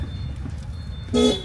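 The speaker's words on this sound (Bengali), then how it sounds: "এই যে দেখেন আর একটা ট্রাক" A truck honks a single short blast on a road near a village cattle market, rising briefly above the low rumble of passing traffic near the end.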